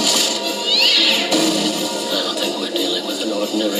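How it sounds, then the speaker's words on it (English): A cat meows and caterwauls in a comedy film trailer, a short rising yowl standing out over busy music and trailer sound effects. "a vicious cat."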